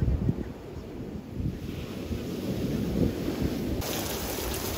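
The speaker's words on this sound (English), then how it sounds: "So it did rain a bit on our stay, but it usually didn't last long." Rain falling at a beach resort in Punta Cana, a steady broadband wash with low rumbling wind gusts buffeting the microphone, continuous and fairly loud throughout with no voices.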